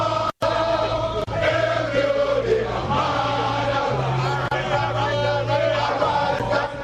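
Agitated crowd of protesters in Accra, Ghana, demanding barricades be removed to demonstrate before Jubilee House, a dense, steady roar of many voices with shouting rising and falling, close and loud throughout.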